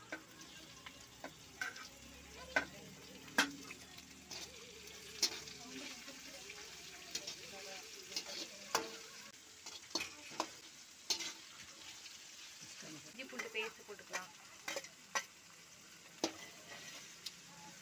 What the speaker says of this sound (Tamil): எண்ணெய் ஊற்றி பட்டை போட்டுட்ருக்காங்க.